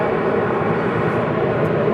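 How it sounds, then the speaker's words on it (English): A loud, steady jet engine roar, broad and rumbling without a break, from a Boeing 747's thrust reversers during landing at Los Angeles International Airport. "he's getting on those thrust reversers"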